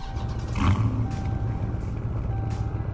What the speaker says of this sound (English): These are the normal Mopar sounds, but I did make some other sounds for this truck